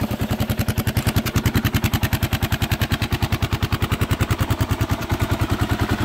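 A small engine idling just after its first start, its idle mixture screw still unadjusted, running close and loud with a fast, even, chugging pulse that holds steady throughout.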